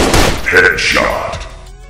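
Burst of gunfire from the Android shooting game Combat Shooter: Critical Gun Shooting Strike, loud and sharp in a short rapid volley that fades out over under two seconds.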